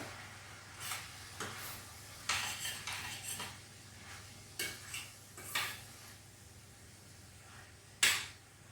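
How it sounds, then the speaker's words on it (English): A spoon or spatula is stirred gently in a pan while cooking sea bass, soft intermittent scrapes and light metallic clinks spaced a second or so apart over a quiet low hum. "Gentle stir."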